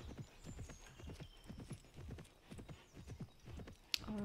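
Horses in the video game Imagine Champion Rider clip-clop with steady rhythmic hoofbeats close by, ending in a short whinny.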